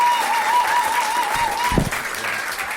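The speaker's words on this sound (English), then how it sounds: "Give me a nice big round of applause for Tom Cassidy" Audience applause at a Friday night stand-up comedy show in New York, a dense steady wash of many hands clapping close by for a comedian taking the stage, with a sustained whistle running through it and no talk over it.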